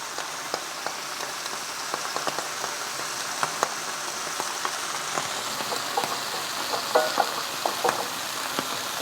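Garlic stir-fries in oil in a pan beside pushed-aside ribs, a continuous crackling sizzle dotted with sharp spatters and occasional utensil taps, close and steady with no talking.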